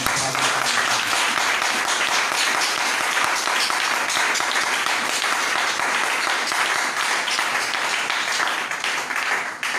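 Congregation at a church service applauding in a dense, steady wash of clapping that runs the whole time, loud and close with no pauses.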